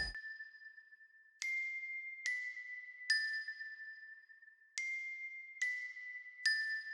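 Bell-like chimes in a UK rap beat strike about seven times at uneven intervals, each a bright ringing tone with a short sparkle that lingers, over a steady sustained high note.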